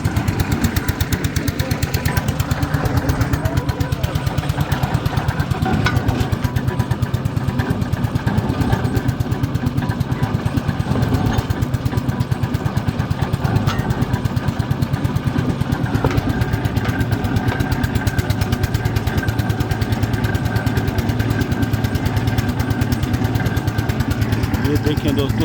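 A tube well water boring machine in Pakistan drives a pipe slowly into the ground, its engine chugging in a loud, steady rumble that runs the whole time, with a voice talking over it.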